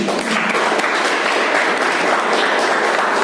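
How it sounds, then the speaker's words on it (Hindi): A gathered audience at a Vestige program in Unchahar claps for everyone, a dense, loud, continuous wash of applause filling the whole stretch without letup. "एक बार तालियां बजाइए सबके लिए।"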